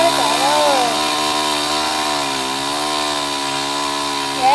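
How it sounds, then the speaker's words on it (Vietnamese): A chainsaw runs loudly while cutting thick melaleuca tree branches up in a tree, a steady close engine drone with pitch dipping and rising under load, continuous throughout. "Bật cái cưa lên nó ù ù nè bạn."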